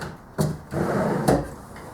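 A slide-out drawer on a wooden roll-around shop cart slides open and shut, two sharp knocks with a rolling rumble between them, close and clear with no talking.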